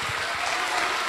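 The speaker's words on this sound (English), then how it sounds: "Another round of applause for Miss Small." An audience at a school programme relaunch applauds a speaker, a brief, dense burst of clapping heard on its own, with no voices over it.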